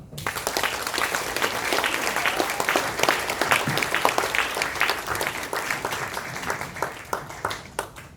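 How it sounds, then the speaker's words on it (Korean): An audience in a seminar hall claps after a talk, a dense round of applause with distinct individual claps audible throughout, steady for several seconds before thinning out toward the end. "임현철 대기자님께 다시 한번 큰 박수 부탁드립니다"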